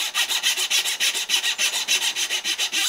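A hand saw cuts wood for a dovetail joint using hand tools, with steady rhythmic rasping strokes, about five per second, close and fairly loud, each push and pull evenly spaced with nothing else heard.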